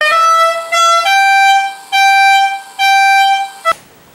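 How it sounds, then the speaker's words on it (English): Loud, bright air horn blasts, driven by an Arduberry board, play a short tune of four sustained notes with brief gaps, ending abruptly and followed by a faint tail. "What better way to do that than with an air horn?"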